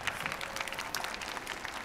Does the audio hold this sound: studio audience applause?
yes